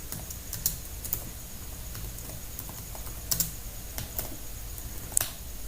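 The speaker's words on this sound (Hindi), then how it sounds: "यहाँ पे तुम टाइप कर सकते हो" Fingers tap on a computer keyboard in quick, uneven bursts of quiet keystrokes, with a few sharper clicks standing out against a soft room background; no one speaks.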